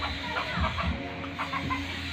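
Roosters at a cockfight cluck and squawk in short, agitated bursts over a dense background din, nearby and fairly loud.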